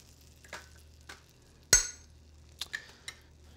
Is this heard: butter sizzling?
yes